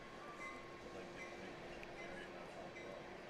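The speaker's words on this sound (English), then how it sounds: "As a train rolls by" A train rolls past a baseball ballpark as a steady, distant rumble with a faint hiss that holds evenly for a few seconds, with no talk over it.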